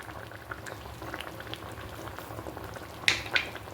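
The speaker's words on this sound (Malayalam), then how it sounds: "അപ്പോൾ കണ്ടോ നന്നായിട്ട് തിളച്ചിട്ടുണ്ട്" Cauliflower curry boils in a pan with a soft, continuous bubbling, quiet and close, with a couple of sharper pops and spatters toward the end.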